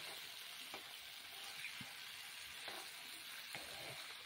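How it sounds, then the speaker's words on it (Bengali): Green banana pieces fry and are stirred in a pan, giving a steady close sizzle with occasional soft scraping stir strokes throughout. "কাঁচকলাটা দিয়ে ভালো করে নাড়িয়ে চাড়িয়ে বহুক্ষণ ধরে ভেজে"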